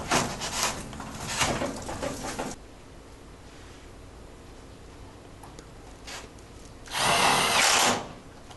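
A power drill drives screws into a garage door seal, two close whirring bursts, one long at the start and a shorter one near the end, separated by quiet handling.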